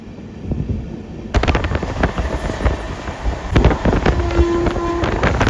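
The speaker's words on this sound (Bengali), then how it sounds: "ওদিক দিয়ে দেখো একটা ট্রেন ঢুকছে" A train rumbling into a railway station on the Sealdah to Jalpaiguri Road route, a loud, steady low roar with rhythmic wheel clatter, heard close from aboard or beside the track with wind noise.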